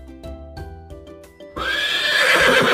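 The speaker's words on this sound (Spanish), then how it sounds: "Vamos a conocer cómo hace el caballo." A horse lets out one loud, drawn-out neigh that bursts in partway through after light background music, carrying to the end.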